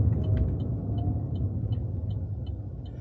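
A car with crank windows is being driven, giving a steady, loud low engine and road rumble throughout with no voices.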